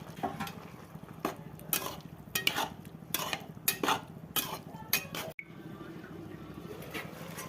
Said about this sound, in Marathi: आता आपण याच्यामध्ये ही फुलगोबी बारीक केलेली याच्यामध्ये टाकून देऊ कढईमध्ये।